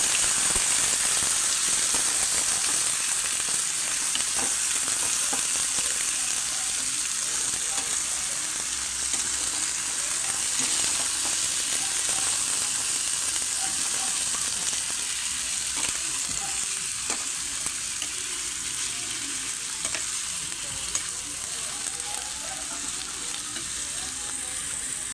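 Pork pieces for caldereta sizzle in hot oil in a pan, a steady loud frying hiss that runs the whole time, with occasional light scrapes and stirs of a utensil underneath.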